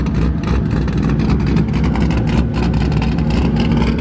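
A drift car engine roars and revs steadily at high volume at a Pro-2 drift competition, a constant loud mechanical drone with rapid pulsing throughout.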